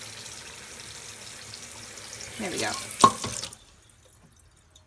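Water poured from a tap or container into a rice cooker pot of rice, a steady splashing stream over about two and a half seconds that ends abruptly, followed by near silence; a voice speaks briefly over the pour.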